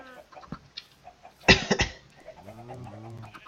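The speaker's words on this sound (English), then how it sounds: "Now if I can lure these chickens out" Minecraft chickens cluck in a short burst of squawks and flaps, followed by a few softer clucks and low murmurs, fairly close.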